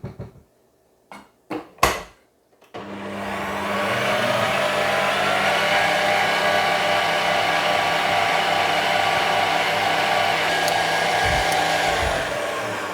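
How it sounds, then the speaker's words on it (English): An electric stand mixer whirs steadily at close range, beating banana bread batter, after a few brief clatters and knocks at the start; the motor hum holds level for about ten seconds before easing near the end. "So now we stop the mixer"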